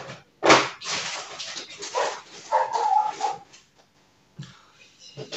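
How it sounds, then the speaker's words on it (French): A small dog barks indoors, giving several sharp yaps and then a run of whimpering yips with short pauses between, fairly close, mixed in among quieter household sounds. "Chien qui aboie encore."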